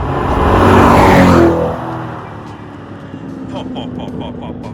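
Chevrolet Corvette C8 Stingray with its big V8, revving loudly up close in a strong surge that fades into a lower idle-like rumble, with people talking over it.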